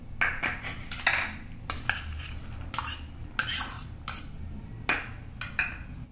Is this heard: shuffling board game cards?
no